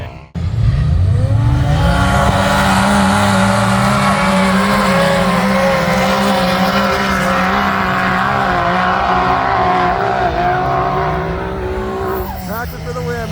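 A drag-racing car at a Labor Day weekend wheelie event launches with a loud, sustained engine roar that climbs in pitch, close and dominant, with excited voices mixed in.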